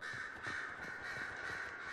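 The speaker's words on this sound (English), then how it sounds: "Shut up, goddamn crows." Crows caw repeatedly in Dragon Age Inquisition, a string of harsh, evenly paced calls at moderate level over a faint ambient game background, with no talking.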